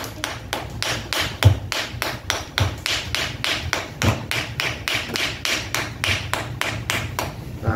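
A gemstone dig block is struck over and over with a hammer to crack it open, giving a steady run of sharp, close knocks at about three per second that carry on throughout.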